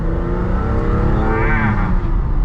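A car engine pulls steadily under load, its pitch climbing as it accelerates, loud and close with no voices.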